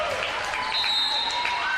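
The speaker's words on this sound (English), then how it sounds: "gets a well-deserved round of applause from the Saints faithful" Crowd applause from home fans at a women's college basketball game as a player exits for the final time, a steady broad clapping wash held at even loudness throughout.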